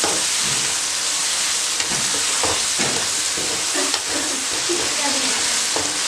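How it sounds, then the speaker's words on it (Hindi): Potatoes stir-fried in hot oil for an aloo matar shorba curry give a loud, steady sizzle with scattered scrapes and knocks of stirring, close and continuous, with no voices. "अब इसमें आलू डालूंगी। बिस्मिल्लाहिर्रहमानिर्रहीम। मैंने आलू को भूनना है।"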